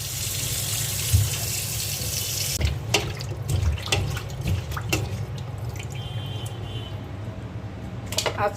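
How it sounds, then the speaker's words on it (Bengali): Koi fish are rinsed under a running kitchen tap, water gushing steadily at first, then breaking into splashes and irregular drips as the fish is handled, close by with no speech. "কই মাছটা ধুয়ে নিচ্ছি।"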